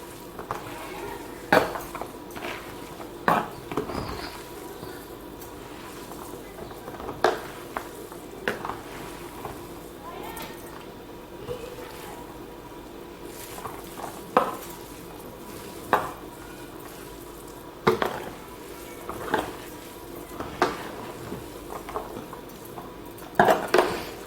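Spoon stirring and scraping pastilla filling in a pan, with repeated clinks against the metal over a steady low sizzle and no talking.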